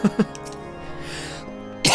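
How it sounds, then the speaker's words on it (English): Two quick sharp coughs near the start, then a lingering tonal hum, and another harsh burst at the end. "The remains of the cough that I had."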